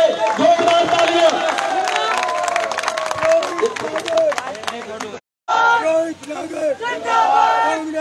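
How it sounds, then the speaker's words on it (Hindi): Crowd at an outdoor Congress political rally in Tigaon cheering and clapping loudly, with shouts rising over a steady roar of applause that breaks off briefly and then resumes. "एक बार बालकृष्ण वशिष्ठ जी के लिए जोरदार तालियां"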